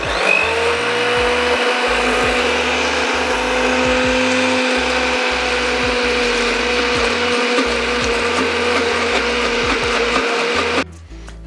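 A kitchen blender blends basil pesto with olive oil in a loud, steady whir that holds for about eleven seconds and cuts off abruptly at the end, with no voices.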